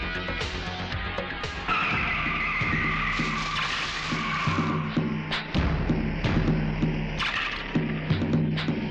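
A car brakes hard, tires squealing and skidding across several seconds, with thuds and engine noise along the way, loud and close, as in a film action scene.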